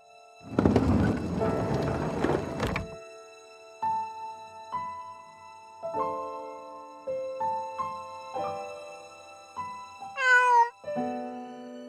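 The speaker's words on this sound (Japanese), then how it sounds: "是那只猫，好久没来了。" A cat in the video game Christmas Tina gives one sharp meow near the end, after a burst of noisy rumble at the start and a series of soft, plucked musical notes.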